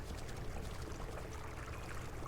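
A wolf wades across a river in the video game WolfQuest, producing a steady, close wash of splashing and pouring water that continues without a break and with no voices.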